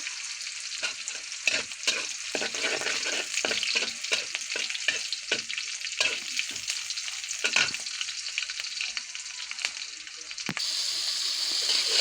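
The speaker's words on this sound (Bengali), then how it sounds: "পেঁয়াজ মরিচ দিয়ে দিছি। এখন একে একে সব মশলা দিয়ে দিব।" Onion and chili fry with spices in a pan on a home stove, giving a steady hissing sizzle broken by repeated scraping stirs from a spoon, close and continuous throughout.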